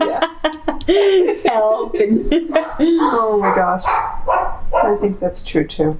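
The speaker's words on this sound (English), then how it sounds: "I'm so sorry about the dogs." Dogs bark intermittently in the background of a home interview, short yips and woofs mixed under continuous close conversation between women.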